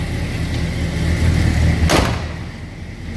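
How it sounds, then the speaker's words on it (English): A heavy door on a 1973 Chevrolet Monte Carlo shuts with a single solid thud near the middle, close and fairly loud, over a steady low background hum. "You can see how that door closes, nice solid it was."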